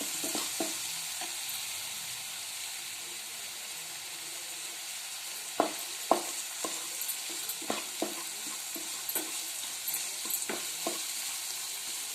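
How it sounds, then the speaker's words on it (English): Mutton frying in a pan with salt and turmeric, a soft continuous sizzle that is joined partway through by a series of sharper spatula scrapes and taps, close by and fairly quiet. "Added little salt and turmeric and fry nicely"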